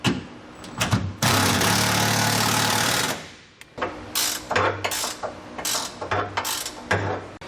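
A power ratchet tightens trailer hitch hardware on a 2010 Chevrolet Colorado in bursts: a long buzzing run followed by shorter rattling pulses and clicks, close up and loud.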